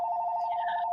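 A mobile phone ringtone rings in a home, one steady electronic tone held for under a second with brighter warbling overtones joining partway through, loud and alone.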